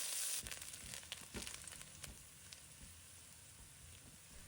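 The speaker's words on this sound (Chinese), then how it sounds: "油热后，姜、蒜、辣椒放入锅中，把它炒香，炒出香味" Ginger, garlic and chili hit hot oil in a wok, giving a quiet, steady sizzle and crackle with a few sharp spatula scrapes near the start.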